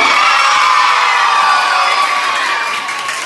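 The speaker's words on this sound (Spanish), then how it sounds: "Una bullita y un aplauso." A crowd at a community event in Santo Domingo Oeste cheers loudly, with shouts, whoops and children's yells blending into one continuous roar that holds strong and then cuts off abruptly.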